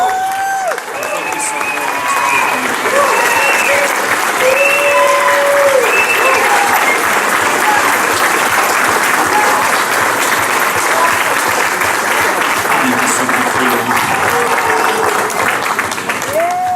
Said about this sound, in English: Let's have a round of applause for my niece and my mom.